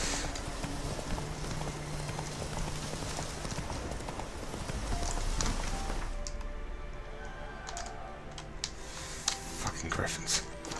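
Horse hooves clip-clopping in The Witcher 3, a steady trotting patter under game sound, shifting to sparser steps and clicks halfway through, with voices present.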